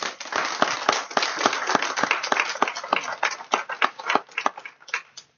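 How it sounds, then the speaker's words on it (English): A small audience at an evening panel talk on Hispanic and Latino history claps for the panelists, distinct hand claps close by, tapering off toward the end. "we owe them a big round of applause"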